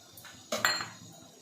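A spoon strikes and scrapes a metal pan while homemade red chilli powder, coriander powder, red chillies, turmeric and sambar masala are mixed for sambar chutney, giving one brief close clatter of two quick clinks.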